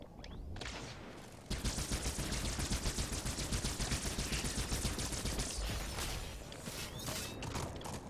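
Halo 2's Needler fires in a long, steady run of rapid repeating shots, dense and loud, with mechanical clicks and game noise at the start and tail.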